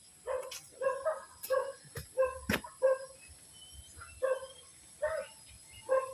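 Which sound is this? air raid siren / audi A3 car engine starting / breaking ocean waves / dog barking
dog barking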